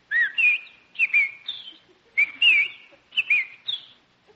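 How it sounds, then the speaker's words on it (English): A bird on a lawn gives clear whistled chirps in four repeated phrases of rising and falling notes, close and bright against silence, with no talking. "Oh, Jack, look at that beautiful bird on your lawn"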